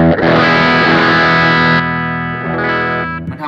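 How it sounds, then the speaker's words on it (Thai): Music Man Majesty electric guitar on its magnetic pickup with the boost engaged, a loud, heavily distorted sustained chord that shifts partway through and rings on before cutting off, with a chorus-like shimmer. "เดี๋ยวผมจะลองกดปุ่มบูสต์ให้ฟังว่ามันดังขึ้นแค่ไหนมันดังจนแตกพีคพลาดได้เลยนะครับ"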